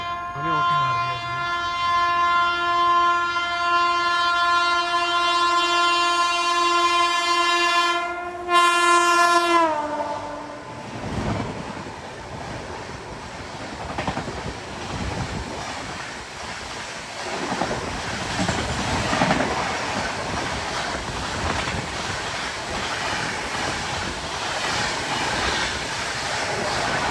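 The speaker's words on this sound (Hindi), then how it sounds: "तो सामने से आ गई है दोस्तों ब्रह्मपुत्रा मेल।" An Indian Railways express, the Brahmaputra Mail, approaches with a long, loud horn blast, then rushes past close by in a sustained roar of wheels and coaches that carries on to the end.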